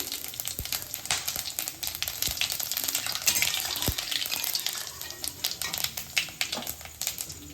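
Cumin seeds hit hot oil in a pan while chicken is being cooked, setting off a steady close sizzle and crackle with scattered sharp pops and clinks, and no talking.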